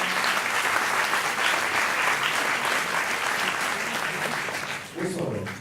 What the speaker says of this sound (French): on accueille sous vos applaudissements Laure Jevaux.